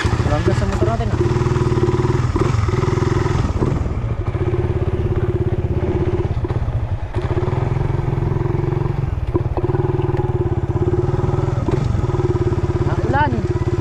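A motorcycle engine runs close by at a steady idle, its low chugging drone continuous throughout while people talk over it.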